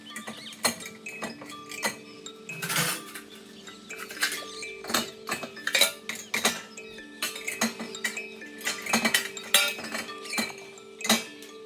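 Crockery and cutlery, including tea cups, clink and clatter repeatedly in irregular bursts, close and fairly quiet, as dishes are set down and stacked into a dishwasher.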